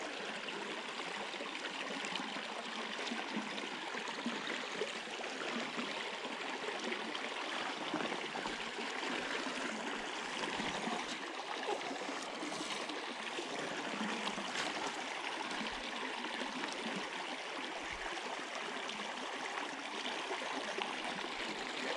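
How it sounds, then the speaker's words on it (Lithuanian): A noisy stream rushes steadily nearby during sight fishing, a constant broad wash of moving water that stays even and fairly loud throughout, with no talk. "vanduo tikrai triukšmauja"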